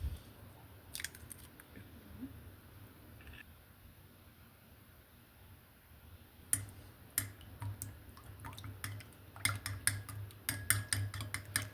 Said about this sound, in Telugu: త్రీ ఎగ్స్ తీసుకొని వీటిని బీట్ చేసుకోవాలి మనం